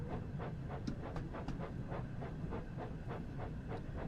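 Thomas the Tank Engine toy steam locomotive running on rails, a steady rhythmic chuffing with regular puffs about every half second, soft and close with no talk.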